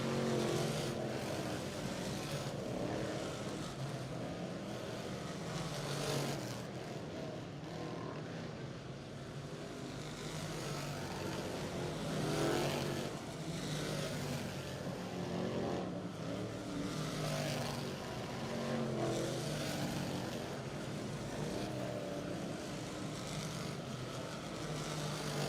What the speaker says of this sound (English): 21 modifieds as we go green here on the third and final session of hot laps for